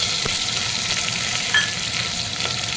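Garlic, curry leaves and dry red chillies sizzle in hot oil on a low flame, a steady dense crackling hiss with faint stirring scrapes, close and continuous throughout.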